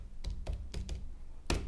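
Five sharp key presses on a calculator as a number is entered, close and fairly quiet over a low background hum, in an irregular pattern with short gaps.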